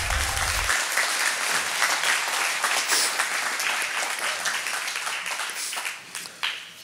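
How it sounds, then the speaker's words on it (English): Church congregation giving a round of applause for guest speaker Andy at a Sunday service, dense and loud clapping sustained throughout, thinning slightly toward the end with a few scattered claps. "Can we give a round of applause for Andy?"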